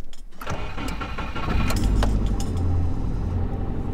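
A car engine cranks and catches after a faulty connector is fixed, settling into a steady loud idle that continues to the end, with a short click before the start.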